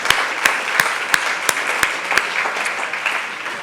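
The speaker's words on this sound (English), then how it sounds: "Can we give another round of applause for that panel?" Conference audience applause for a panel, sparse evenly spaced hand claps standing out over a soft bed of crowd noise, close and fairly loud.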